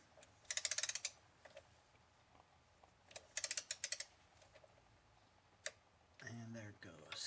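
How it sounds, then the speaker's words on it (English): A torque wrench clicks as it tightens a transmission pan bolt on a Dodge Dakota to 35 inch-pounds, giving two bursts of rapid ratchet clicks, then a single click, close and crisp, with a brief voice at the end. "Torque this one to 35 inch-pounds."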